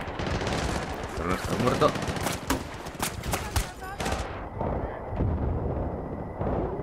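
Machine gun fire in Battlefield Bad Company 2 crackles in rapid bursts of shots amid explosions and battle noise, with someone talking over the combat.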